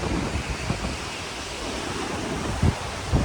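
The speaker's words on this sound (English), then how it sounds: "It is so windy." Wind gusting across an ocean beach in Southern California, a steady broadband roar with surf-like wash and a few louder buffeting bursts on the microphone, no talking.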